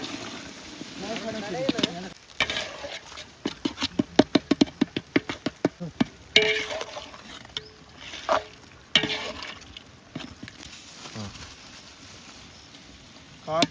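Chicken biryani being stirred in a large pot cooked outdoors, a ladle scraping and clattering in irregular bursts over a low sizzle, with voices talking throughout.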